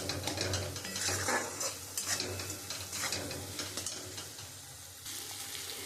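Spice paste with a little sugar frying in a pan while a spoon stirs and scrapes it: continuous close sizzle and rhythmic scraping strokes, moderately quiet, with no voices.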